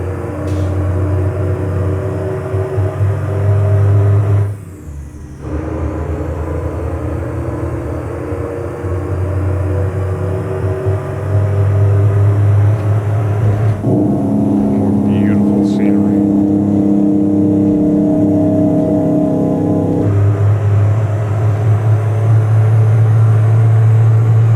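A Mack truck engine in American Truck Simulator runs as a steady, loud low rumble, with brief dips near five and fourteen seconds and a shift in pitch around twenty seconds.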